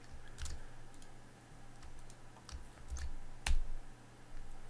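A computer keyboard typed on and clicked while entering an ad campaign filter: a handful of scattered, sharp keystrokes and clicks over a low electrical hum, close and fairly quiet.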